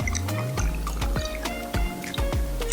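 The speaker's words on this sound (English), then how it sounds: "We're gonna do 2 ounces of rum per person here." Rum poured into a cocktail glass over ice, with repeated dripping, glugging pours and clinking, wet sounds at close range, and no talking.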